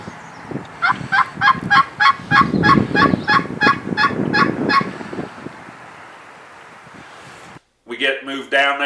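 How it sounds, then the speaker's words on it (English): A wild turkey gobbles repeatedly during a spring hunt in Canada, a loud rapid rattling burst lasting several seconds over rustling ground noise, followed by silence and then a short call. "hits the call, and boom, bird gobbles"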